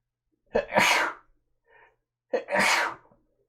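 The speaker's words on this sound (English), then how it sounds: "I'm gonna sneeze." Two loud sneezes close up, separated by a brief quiet pause with a small sniff between them.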